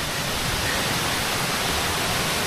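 Broadband rushing water from a large stream beside a forest trek trail near Tandulwadi Fort in Palghar district, a steady, loud, continuous flow heard alone with no break.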